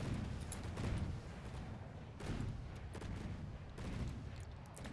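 Video-game naval battle with shells pounding a ship's stern, heavy rumbling bursts of gunfire and impacts that swell and fade in repeated waves, loud and dense with crackling debris.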